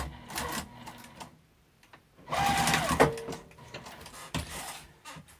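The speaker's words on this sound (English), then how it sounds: "And I'm going to sew off the edge of this zipper pull here" Short bursts of a sewing machine's fast stitching sound close by as it sews across the end of a zipper pull on a pouch, separated by quiet pauses and light handling noises.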